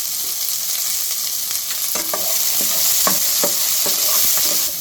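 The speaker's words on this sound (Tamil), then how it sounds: "தக்காளி ரெண்டு தக்காளி குட்டி தக்காளி இது வச்சுருக்கோம் இல்லையா அந்த குட்டி தக்காளி கருவேப்பிலை கொஞ்சோண்டு கொத்தமல்லி கொஞ்சம் எல்லாம் போட்டு வதக்கிக்கலாம்" Small tomatoes, curry leaves and coriander sautéed in a pan for crab curry: a loud continuous sizzle with a run of regular spatula scrapes starting midway, close up and free of talk.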